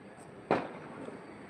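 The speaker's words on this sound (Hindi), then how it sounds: "इंडिया जीत गई देखो पटाखा पे पटाखा देखो" Firecracker set off during a celebration of an India win: one sharp, fairly distant crack cuts through quiet background, then fades quickly, with a faint second pop afterwards.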